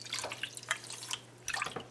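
One cup of water going into a pan already holding sugar, heard as a few close, soft splashy drips and trickles in short bursts over a steady low hum.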